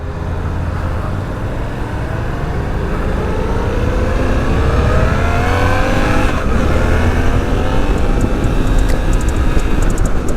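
Loud engine of a 2024 Suzuki V-Strom 800 DE adventure motorcycle accelerating hard and close, its pitch climbing steadily in a continuous rising roar.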